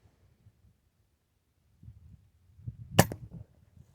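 A single sharp shot from a .22 pellet rifle, a short crisp crack close by, with faint shuffling before and after and otherwise quiet surroundings.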